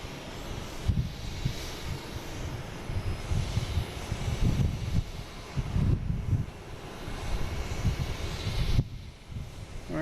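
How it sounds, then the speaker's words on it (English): United Airlines Airbus A321neo taking off at Boston Logan, a broad, steady roar of jet engines mixed with wind buffeting on the microphone, loud and sustained with rising and falling surges. "We have a United Airlines A321neo heading to Denver."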